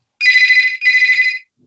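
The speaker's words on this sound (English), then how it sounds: "Sorry, that was my phone." A mobile phone ringtone sounds close and loud indoors as two warbling electronic bursts of about half a second each, with a short gap between them and no speech.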